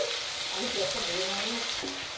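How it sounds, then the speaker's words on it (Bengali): Chopped onion and tomato sizzle and fry in hot oil tempered with bay leaves and whole cumin, a close, steady crackle with occasional stirring sounds. "দিয়ে ভালো করে নেড়ে নিচ্ছি। হালকা ভেজে নেব।"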